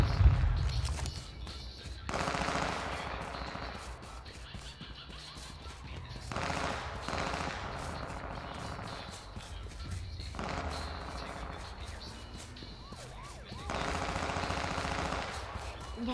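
Gunfire in H1Z1 battle royale, several bursts of sharp shots and clusters of reports spaced a few seconds apart, fairly loud, with game ambience between them.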